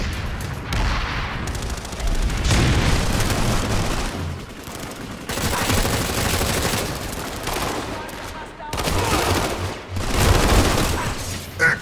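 Grenades explode in a video game firefight. Repeated loud, dense blasts and bursts of gunfire come in waves over about twelve seconds, with a rumbling, chaotic texture throughout.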